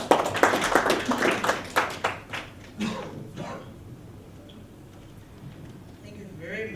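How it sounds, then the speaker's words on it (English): An audience at a business convention breaks into scattered applause for a speaker, a burst of claps over the first few seconds that fades into quiet room tone, with voices mixed in. "I think he deserves a proper round of applause"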